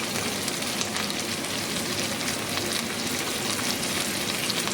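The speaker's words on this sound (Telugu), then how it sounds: "మెంతిని కూడా మనము కొంచెం పచ్చి వాసన పోయేంత వరకు కొంచెం నూనెలో ఈ రకంగా ఫ్రై చేసుకుందాం" Fenugreek seeds fry in hot oil with ginger for a masala egg curry, giving a dense, even, close crackling sizzle that holds steady from start to finish without pause or speech.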